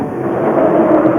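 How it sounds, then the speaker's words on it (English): A passenger train heading toward Aswan in Egypt gives off a steady, broad rumble with a faint rolling clatter, close and continuous throughout, with no voices. "The journey continues on a train heading towards Aswan, about 4 hours south of Luxor."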